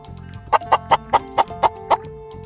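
A hen clucks seven times in a quick, evenly spaced series, close and loud over a faint low hum.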